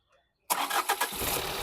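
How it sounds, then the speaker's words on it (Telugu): A 2018 Tata Nexon XM diesel car starts on a single crank after a moment of near silence, its engine catching abruptly and settling into a loud, rough idle. "సింగిల్ సెల్ఫ్లో బండి స్టార్ట్ అవుతుంది సార్, ఎటువంటి స్టార్టింగ్ ట్రబుల్ అయితే లేదు."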